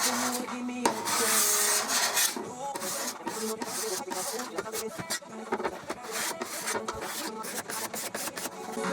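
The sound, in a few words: cabinet scraper scraping old finish off wood trim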